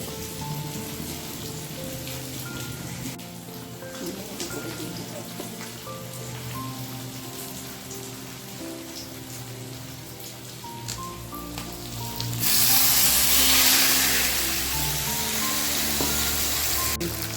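A turmeric-tinged prawn mixture cooking in a pan, a steady rain-like sizzle under soft background music, swelling into a louder, brighter hiss near the end, with no talk.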